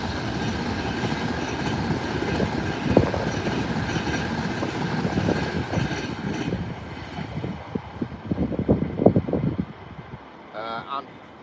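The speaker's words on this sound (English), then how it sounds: "There's a train due past any minute going to London Euston." A train bound for London Euston rumbles past on the line, a rushing roar with rhythmic wheel clatter that builds and then fades away, ending with a brief vocal sound.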